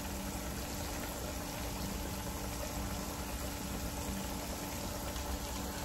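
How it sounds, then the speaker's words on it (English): Pork chops fry in a pan, a steady dense sizzle and crackle of hot oil that holds constant throughout, with no talk. "Let that fry real good."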